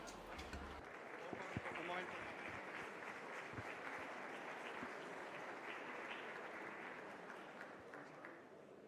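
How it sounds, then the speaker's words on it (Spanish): Sustained audience applause at an Open Government Partnership Global Summit awards ceremony, steady dense clapping filling the room for the full duration at moderate loudness after a brief spoken intro. "Un fuerte aplauso."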